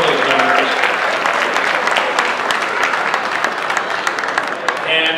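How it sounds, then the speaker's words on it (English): Crowd applauding donors at a charity fundraising auction, sustained loud clapping with sharp individual claps and some voices mixed in, tapering slightly near the end. "a big round of applause for all of those donors"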